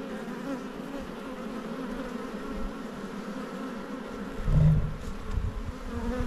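Honey bees drone in a steady, continuous hum at an open top bar hive during a colony transplant, close and sustained, swelling briefly louder midway through.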